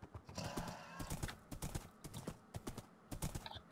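Rhythmic hoof clip-clops of a horse ridden in a block-building video game, steady close footfalls with a faint whinny.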